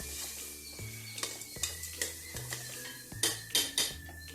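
Turmeric, coriander powder and garam masala fry in a pan for a rice dish, a soft sizzle under repeated scraping stirs and metal clinks of a spoon against the pan, close and moderately loud, no voices.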